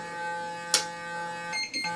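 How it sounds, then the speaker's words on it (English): Faint electronic timer beeps from a Clarisonic facial cleansing brush play over a steady high buzzing hum, with a short burst of noise partway through. "Now this, you hear that beep, it switched."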